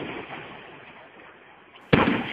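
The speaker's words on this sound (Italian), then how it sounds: "In questo video è possibile vedere tutti i tipi di fuochi, tra cui i botti iniziali." Fireworks display at Villanova di Bernareggio, opening with a distant rumbling hiss of bursts that fades, then a sudden sharp loud explosion near the end.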